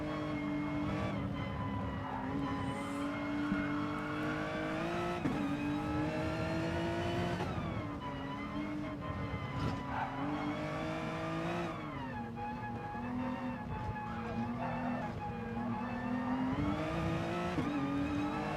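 A race car engine in a racing video game, an endurance race at Catalunya, drones and revs continuously and loudly, its pitch rising through gears and dropping at shifts, with no speech.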